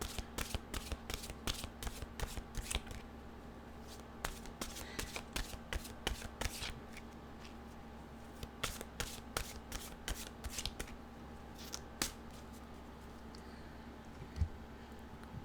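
Mantra cards are shuffled in quick, crisp riffling bursts that repeat in irregular runs with short pauses between them, close up and alone over a low steady hum.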